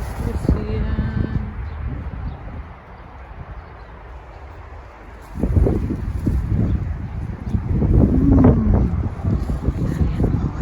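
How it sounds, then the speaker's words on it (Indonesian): Strong wind gusting through Melbourne at dusk after three days of rain, a broad low roar with buffeting against the microphone that drops briefly, then returns louder and rougher for the rest of the stretch. "Anginnya hari ini kencang banget."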